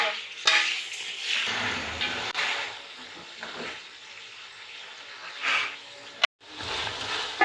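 Chicken feet are fried in a pot of prepared spice masala, giving a steady, close sizzle broken by stirring scrapes and occasional clatter of utensil against the pot.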